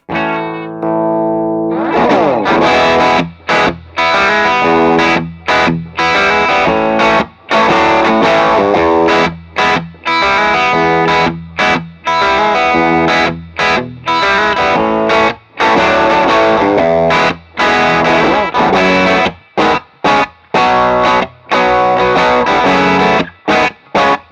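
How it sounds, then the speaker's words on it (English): An electric guitar played through a King of Tone overdrive pedal, both sides stacked as clean boosts, rings out thick and distorted with heavy low end; chords and notes are struck in a rhythmic pattern with brief choppy stops, and no one speaks. "I run mine as two clean boosts stacked into each other."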